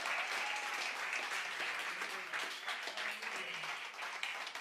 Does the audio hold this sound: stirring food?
no